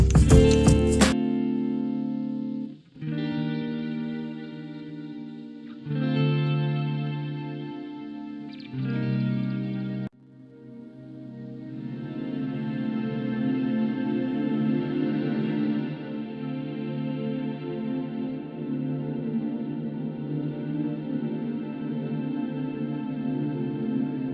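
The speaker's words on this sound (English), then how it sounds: "It's actually a weird combination between a delay, an echo, and a reverb" Sustained synth chords run through a combined delay, echo and reverb plugin bloom into a dense, washed-out tail of repeating echoes and reverb, the sound smearing and lingering for many seconds.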